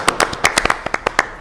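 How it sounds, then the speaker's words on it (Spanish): Live audience applause welcoming chef Lalo Plascencia to a talk event, a burst of sharp, uneven claps from a modest crowd, fairly close and continuous for a second and a half. "Un aplauso, por favor."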